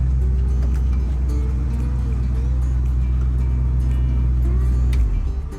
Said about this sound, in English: Now let's go shut this car off.